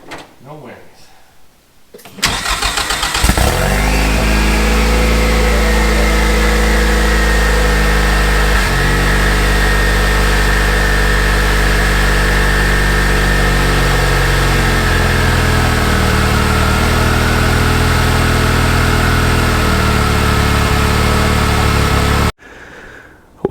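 A Ford EcoBoost engine idles steadily after a smoke fix, its smooth, even hum running close and continuous for about twenty seconds after a brief start, then cutting off near the end.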